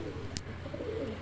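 A pigeon gives a soft, low coo, close but faint, with a couple of sharp clicks above it during the brief moment.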